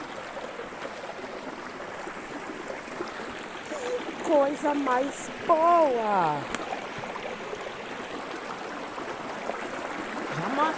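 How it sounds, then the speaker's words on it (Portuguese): A forest stream runs with a steady rushing and trickling of water, heard close; someone speaks briefly over it. "Tem um barulho d'água bem bom aqui."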